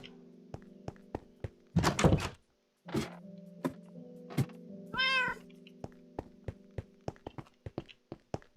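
A Minecraft cat meows a few times, its rising, whiny call standing out against sharp in-game thunks and footstep taps spaced irregularly over a low, steady hum, with no talking.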